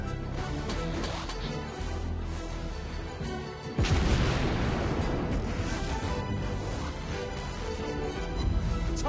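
Main guns of the Roma battleship firing in World of Warships Blitz, a heavy booming salvo with a sharp blast near the middle followed by rolling rumbles and crashes over a continuous battle din.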